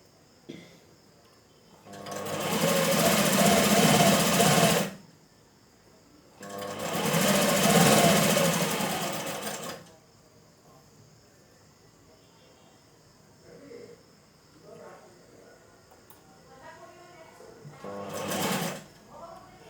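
A sewing machine stitches folded cloth while making a simple dori bell design, running in two loud sustained bursts of a few seconds each, then a shorter burst near the end, with quieter handling sounds between.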